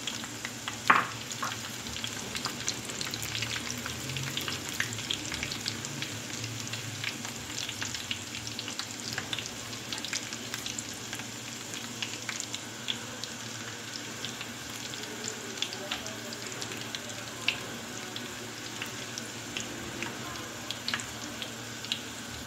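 Garlic and cumin seeds sizzle steadily in hot oil for a kadhi tempering, a dense, even crackle with scattered sharp pops that runs unbroken throughout, with no speech.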